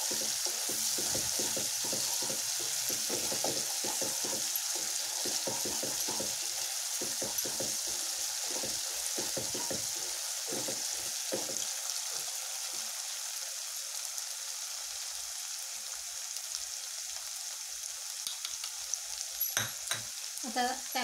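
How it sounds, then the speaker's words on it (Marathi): Ground spice paste for a sprouted matki (moth bean) curry sizzles steadily in a pan, with a run of scraping stirring strokes early on before the frying settles into a softer, continuous hiss. "वाटण आपलं छानपैकी परतून घ्यायचं आहे त्याच्यामध्ये"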